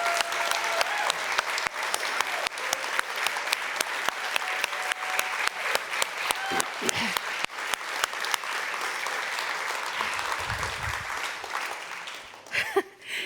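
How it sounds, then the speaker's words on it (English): An audience applauds workers who have stood up, a long steady wash of clapping with sharp individual claps standing out, carrying on for over ten seconds before tapering off amid brief voices. "stand up so we can applaud you"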